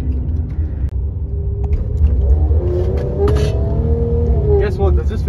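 A Stage 2 tuned Mercedes-Benz GLC43 AMG engine pulls at half throttle with a loud, rising, rumbling growl heard close from inside the car, shifting in pitch as it accelerates, with occupants talking.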